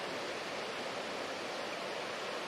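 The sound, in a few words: water stream from Sripada mountains with waterfalls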